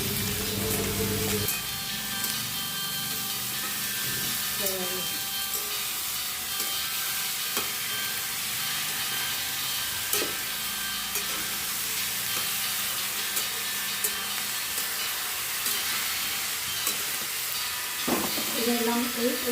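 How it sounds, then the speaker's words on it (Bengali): Mixed vegetables fry in a kadai for a home-style vegetarian curry, giving a steady sizzle and hiss. Occasional scraping clinks of stirring sound close by. "কড়াইয়ে মা সবজিগুলো দিয়ে দিচ্ছে আর আমি সাঁতরে নিচ্ছি।"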